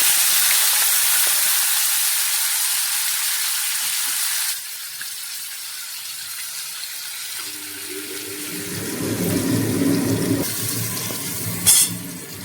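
Paneer cubes go into a hot pan of oil for paneer posto, raising a loud, broad hissing sizzle that drops abruptly to a quieter, steady frying hiss, with low bubbling and clatter rising near the end.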